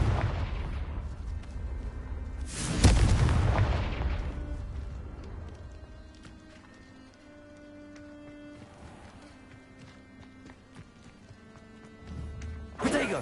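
In the video game Hogwarts Legacy, a Confringo fire-blast spell detonates with a loud, booming explosion that fades over a few seconds, followed later by a second blast after a quieter stretch of ambient game sounds.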